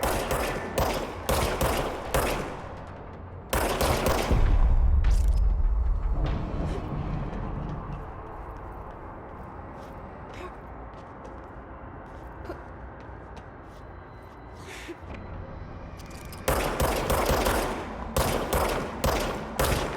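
Bursts of automatic gunfire from a firearm in the video game Control, loud rapid volleys opening the stretch, a long quieter gap with a low rumble, then more sharp bursts returning near the end.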